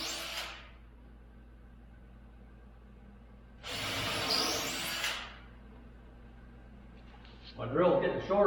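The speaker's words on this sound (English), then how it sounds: "So now let me just drill a hole in these." Power drill boring holes in wood while building a wood duck house, with a brief whir at the start and a longer burst of about a second and a half in the middle, each separated by quiet, then a rustling knock near the end.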